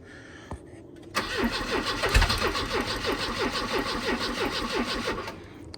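A hot-wired abandoned Volvo 240 cranks with a rapid rhythmic starter churn after a brief pause, then catches and settles into a rough, loud running engine, close by with no talk.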